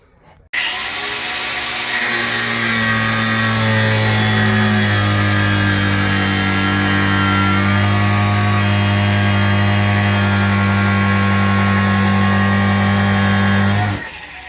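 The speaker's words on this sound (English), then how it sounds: "going to cut this off with a grinder" An angle grinder cuts through a metal pocket door rail with a loud, steady high-pitched whine that holds for about fourteen seconds, close to the listener, and then stops.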